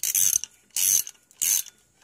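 A crankcase splitter tool, a modified Huztl splitter adapted from a wheel puller, is screwed in by hand in three separate bursts of close, loud ratcheting clicks with short pauses between them.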